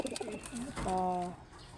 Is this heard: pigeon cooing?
yes